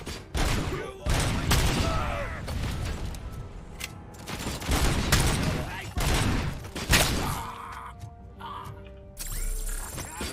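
Bursts of gunfire and heavy weapon fire in the RoboCop: Rogue City video game, loud and repeated in rapid volleys across the whole stretch, mixed with booms and mechanical clatter while combat voices call out underneath.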